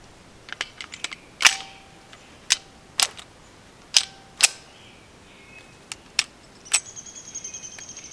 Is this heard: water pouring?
no